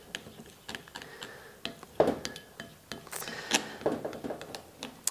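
A spoon or whisk clinks and scrapes through a bowl of melting chocolate for an Easter egg, giving irregular close-up taps and stirring knocks with no talking.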